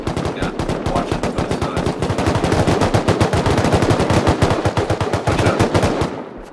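SMG or LMG fire in a video game base raid, long rapid automatic bursts of sharp, loud, evenly spaced shots running almost continuously for several seconds before tailing off.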